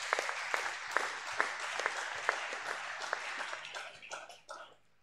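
A church congregation claps together for the Lord Jesus, with strong rhythmic applause filling the room before it tapers off near the end.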